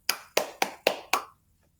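Five crisp hand claps in an even, steady rhythm, close and clear with no talking.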